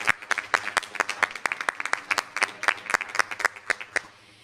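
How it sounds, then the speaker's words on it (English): Small audience at a school district board meeting giving a round of applause, distinct individual claps in a lively uneven rhythm that thin out and fade toward the end. "One more round of applause."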